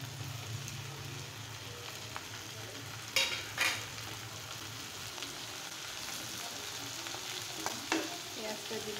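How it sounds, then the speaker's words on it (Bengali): Fish and sliced onion fry in a pan with a steady sizzle, and a couple of sharp stirring scrapes break in near the start, with no voices. "এখন মাছটাও ভাজা হবে আর পেঁয়াজটাও সুন্দর মতো ভাজা হয়ে যাবে"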